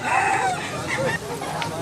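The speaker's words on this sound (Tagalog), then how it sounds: "Kaning klasihas manok mga idol, claret ni siya mga idol" A claret-bloodline gamecock clucking close by at a roadside sale, a few short calls, with people talking over it.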